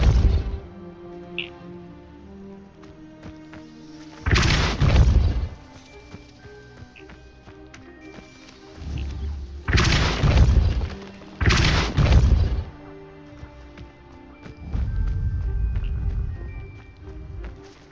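Spells including Depulso are cast in the video game Hogwarts Legacy, producing several loud booming blasts with crashing impacts, spaced a few seconds apart over a quieter musical game background.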